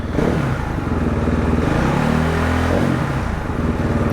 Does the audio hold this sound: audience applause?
no